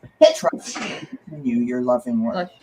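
A person sneezes once, a sharp close burst near the start, and the sneeze is surrounded by spoken words.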